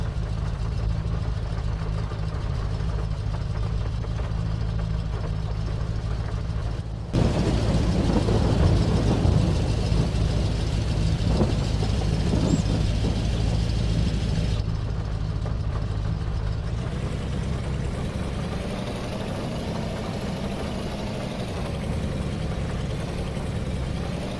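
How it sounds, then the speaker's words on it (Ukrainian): A tractor engine in Farming Simulator 22 settles into a steady low idle, then shifts to a rougher, louder rumble before easing back to an even, continuous hum, close and unbroken by speech. "Запускаю двигун"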